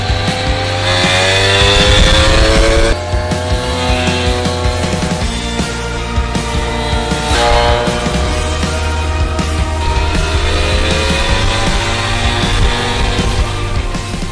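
A brand-new moped engine being broken in, revving hard under throttle with a buzzing, rising whine, dropping briefly before climbing again, loud and close with no talking.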